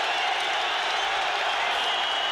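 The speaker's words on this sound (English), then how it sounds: "The crowd aroused here now" A broad, steady roar from a packed football stadium crowd at a 1985 Washington Redskins versus Chicago Bears NFL game, dense and continuous without breaks, like a sustained cheer filling the whole space.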